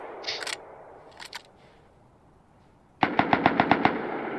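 Gunfire in the video game Rust: a couple of faint, scattered early shots, a quiet pause, then a sharp rapid burst of about seven evenly spaced automatic rounds, close and loud.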